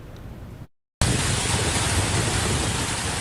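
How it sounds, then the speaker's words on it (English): Heavy rain pours onto a shopping center parking lot at a plaza known for flooding, a loud, steady broadband hiss that cuts out briefly near the start, then resumes at full, unbroken strength with no talk. "This morning's heavy rain was no exception."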